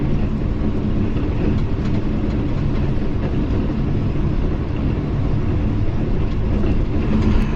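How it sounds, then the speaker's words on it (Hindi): The down Tezgam express runs at about 110 km/h through Muridke railway station, giving a steady, loud, close rolling roar with faint wheel clatter and no speech. "110 किलोमीटर फ़ी घंटा की रफ्तार से डाउन तेज़गाम दौड़ रही है और इस वक्त पास थ्रू हो रही है मुरीद के रेलवे स्टेशन से"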